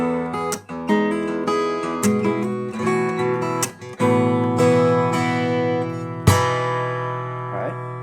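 Nylon-string guitar phrase with nail attacks across the second and third strings, bright plucked chords and single notes ringing out close and clear, alone without talk.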